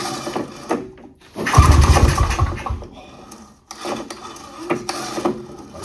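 A vintage snowmobile engine cranks and briefly catches with a rough, low mechanical rumble before sputtering. Clicks and handling noises surround it, with faint voices.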